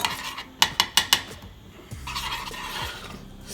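Melting sugar for coconut flan caramel stirred in a pan: four quick, sharp utensil taps against the pan, then softer scraping and bubbling, close and fairly quiet.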